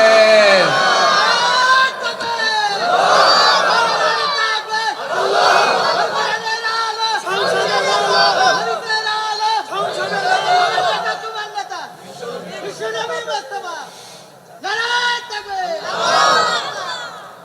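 Large crowd at a Bengali waz religious gathering in Nilphamari shouting in loud unison, repeated bursts of massed chanting voices echoing with brief lulls between them.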